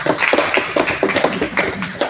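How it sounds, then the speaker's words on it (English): An audience at a leadership academy applauding in a brisk, close, rhythmic burst of many hands clapping, loud and steady with no voices over it. "Let's give a big round of applause to you."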